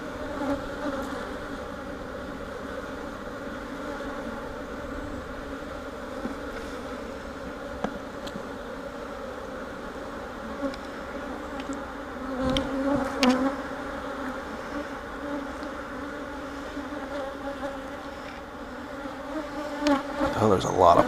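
Agitated honey bees swarming around an open hive as honey frames are pulled, a dense continuous buzz with droning tones close to the microphone, individual bees zipping past, and a few knocks and handling sounds.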